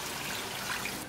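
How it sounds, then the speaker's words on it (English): Two cups of water pour into a pan of tomato-based fish curry, a brief, steady hissing splash filling the whole moment at moderate volume. "Now we'll bring 2 cup water."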